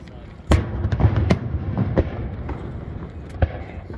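Fireworks at a 2022 show in Kimberling City, Missouri, going off as several sharp bangs and thuds at irregular intervals, fairly near, over a low rumble of crowd and background noise.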